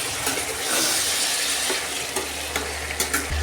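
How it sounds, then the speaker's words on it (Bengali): Chicken meat fries in hot oil while being stirred in a pan, giving a steady, close sizzle broken by soft scraping strokes and a low clunk near the end. "মাংসটাকে একটু ভেজে নেব।"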